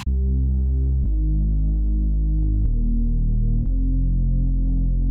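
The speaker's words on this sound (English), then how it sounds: "we just have a very basic Reese bass that I just quickly made up" A thick, buzzing synthesized Reese bass plays sustained low notes that shift pitch a few times, loud and alone.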